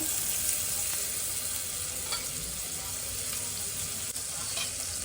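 Cashews fry in melted butter in a pan, giving a steady, soft crackling sizzle with a few light stirring clicks, close by and without any talking.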